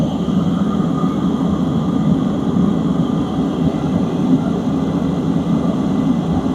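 A diesel heater runs with a steady, loud, close roar of blowing hot air, a continuous low rumble and broadband whoosh with no pauses or talking.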